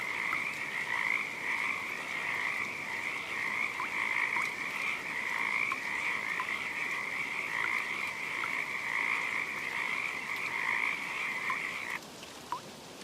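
A steady chorus of frogs croaks through a rainy night forest, a dense, unbroken layer of calls at even volume that cuts off abruptly near the end, leaving a quieter background.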